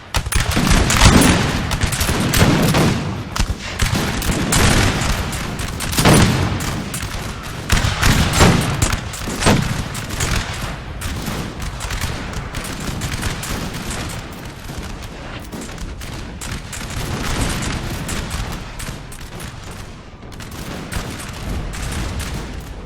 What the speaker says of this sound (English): The whole line begins to fire at each other.